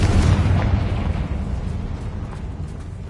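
A loud, close Confringo fire spell from the game Hogwarts Legacy detonates in a booming explosion, then its rumble slowly decays over about three seconds, with no voices.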